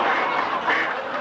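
A duck quacks in a short, loud, nasal burst, close by and alone, lasting about a second.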